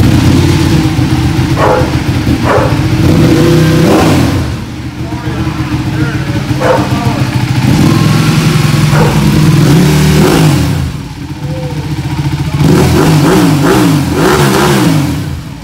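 Car engine with the exhaust baffles removed revving hard in loud, raw bursts, dropping back to a rumbling idle between pulls; people's voices are heard nearby among the revs.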